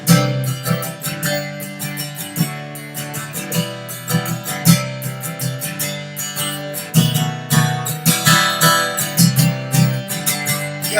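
An acoustic guitar strummed in a lilting 6/8 groove, loud and close, with steady rhythmic strokes grouped in sixes and accented downbeats over ringing chords.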